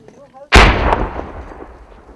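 A 60mm mortar fires once during a combat firefight against a Taliban ambush: one sudden loud, close blast that rolls off into a long decaying rumble and echo, with a faint voice just before it.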